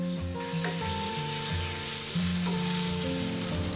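Finely crushed ginger, garlic and green chili hit hot oil with cumin, giving a steady, close sizzle and fry with light stirring, no voices.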